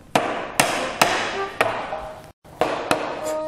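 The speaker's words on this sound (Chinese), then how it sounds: "敲吧，木工师傅。 哎，你要不拿个小锤子？" A hammer striking a thick wooden board, about eight sharp, loud knocks in an uneven rhythm with a brief pause before the last few, ringing slightly after each blow.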